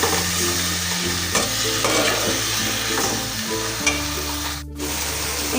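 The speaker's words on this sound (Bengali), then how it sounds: "আর এখানে অনুভূতির জন্য মাছের এই পেটিগুলো ভাজি করতেছি" Fish belly pieces fry in a pan, giving a steady, loud sizzle that fills the whole stretch, with a few brief stirring knocks and one sharp scrape near the end; no one speaks.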